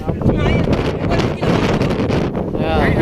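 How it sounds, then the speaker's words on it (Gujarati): Strong wind gusting over the Girnar hills near Junagadh, Gujarat, buffeting the microphone as a steady loud roar throughout, with people talking over it. "હા તમે જોવો અહીંયા પવન કેટલો જોવો."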